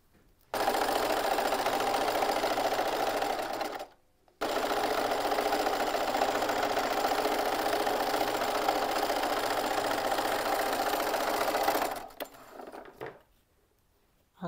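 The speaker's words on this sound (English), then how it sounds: "I'm going to sew one line down here and one line down here." A sewing machine stitches seams on a simple embroidered fabric peg bag, humming steadily in two long runs of about three and eight seconds with a brief pause between, then slowing to a stop.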